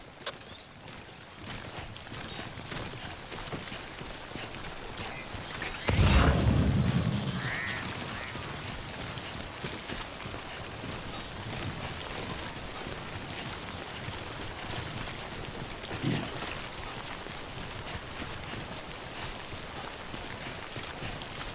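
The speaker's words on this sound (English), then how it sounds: "Don't stay out in the rain any longer than you have to." Steady rain falls across an outdoor scene in the Death Stranding video game, a dense even wash of drops with a loud rumbling burst about a quarter of the way in and a softer thump later, no voices.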